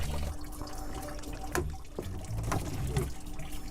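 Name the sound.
water spilling from pipe valve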